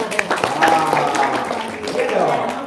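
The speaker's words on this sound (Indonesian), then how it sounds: "Tepuk tangan dong." Scattered audience clapping at a comedy show rises under loud, overlapping talk and laughter, the claps uneven and mixed into the chatter rather than standing alone.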